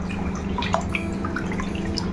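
Soaked rice for idli dosa batter is washed in water, with soft drips, splashes and light sloshing close by at a steady level throughout.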